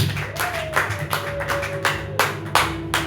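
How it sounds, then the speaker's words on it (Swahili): A church congregation claps several times in an irregular rhythm during a Friday service, mixed with a sustained tone and ambient room noise. "Shangilia Bwana kwa makofi yako kwenye nguvu."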